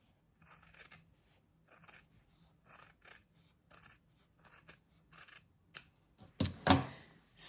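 Scissors trim the fabric edges of a handmade needle book, a steady series of short crisp snips spaced about a second apart, close and fairly quiet, ending in a louder rustle of handled fabric.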